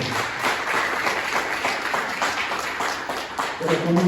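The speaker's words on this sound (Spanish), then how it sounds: "Denle fuerte un aplauso al Señor, si es que va a darle gloria." Church congregation clapping during a Sunday service, a sustained, fairly even patter of many hands filling the room, with a brief voice or tone rising near the end.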